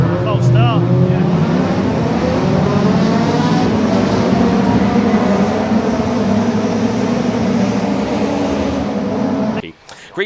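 Honda race cars with VTEC engines roar off the start at Brands Hatch, a dense, loud wall of engine noise with rising revs early on that holds steady before cutting away near the end.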